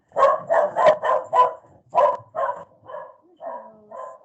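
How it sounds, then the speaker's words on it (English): A dog barks in a quick run of close, loud woofs, then a pause and several softer, slower barks with a whiny edge, no talking over them. "There's my dog, by the way."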